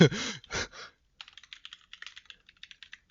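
Computer keyboard typing: a quick run of light, close key clicks in an uneven rhythm, following a couple of brief breathy sounds at the start.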